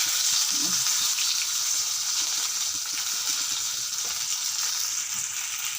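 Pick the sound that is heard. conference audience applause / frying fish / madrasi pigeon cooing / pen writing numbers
frying fish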